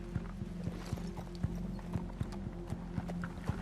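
Horses walking on a trail, their hooves clip-clopping in a steady, evenly spaced rhythm of sharp knocks, fairly close, with a low constant hum underneath and no talk.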